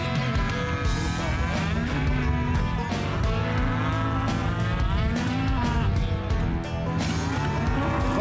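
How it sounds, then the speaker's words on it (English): Cattle on a farm moo loudly and repeatedly around a red Ranger utility vehicle at feeding time, with overlapping calls from several animals close by and low rumbling underneath. "Tom's Red Ranger is the cow's favorite, because when he's behind the wheel, that means it's dinner time."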